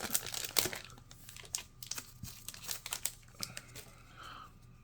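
A Magic: The Gathering Secrets of Strixhaven play booster pack wrapper is torn open and crinkled close up, giving sharp rips and irregular crackly rustles throughout.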